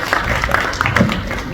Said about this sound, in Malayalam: ഒരിക്കലും കൂടി നല്ലൊരു കയ്യടി കൊടുക്കാം സുരാജ്